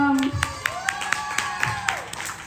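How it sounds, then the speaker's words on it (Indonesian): Children clapping in a roughly steady rhythm of about nine claps, fairly close, with a voice speaking over the claps. "Najwa mau tepuk tangan nih"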